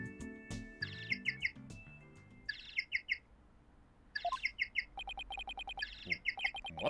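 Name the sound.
bird-like phone ringtone in video game Ace Attorney Dual Destinies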